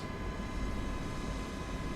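A flight-simulator aircraft makes a super low pass, its engine a loud, steady low roar and broad whine that hold at close range with no voices.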